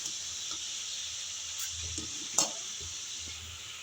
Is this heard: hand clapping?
no